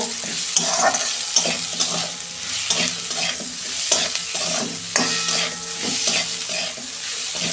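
Potatoes sprinkled with salt fry in a pan while being stirred and tossed, a steady loud sizzle broken by rhythmic scraping strokes every half second or so, with no voices heard.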